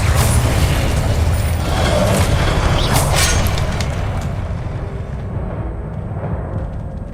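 Incendio fire spell cast in the Hogwarts Legacy video game: a loud, dense whooshing roar with a booming burst, holding strong for several seconds before easing slightly.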